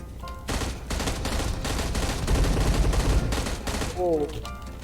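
Gunfire in the mobile video game PUBG Mobile: loud, dense bursts of rapid shots run for several seconds, then stop and leave brief tonal game effects.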